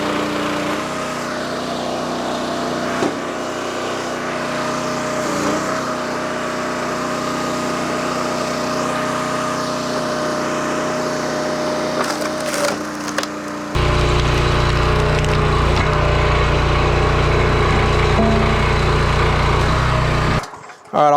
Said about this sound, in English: I'll cut the engine off in between so we can talk.